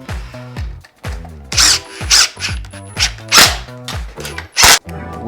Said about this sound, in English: Let's go ahead and tighten these upper mounts in.